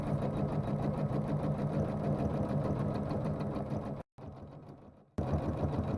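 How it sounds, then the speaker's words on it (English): A quilting machine stitches a design across a large quilt with a steady, dense mechanical whir and fast needle chatter, briefly cutting out for about a second before running on. "The first part of the design has sewn, and now it's doing the stapling around the edges"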